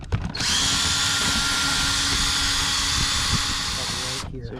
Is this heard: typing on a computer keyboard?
no